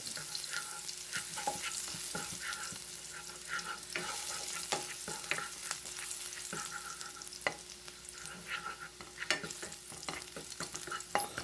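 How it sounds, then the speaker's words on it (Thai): Minced garlic stir-fries in a little oil in a wok, a steady close sizzle broken by repeated scraping and tapping of a spatula, with no voices. "ใส่น้ำมันลงไปเล็กน้อยนะครับ แล้วก็ใส่กระเทียมสับตามลงไปเลยครับ ผัดให้เหลืองหอม"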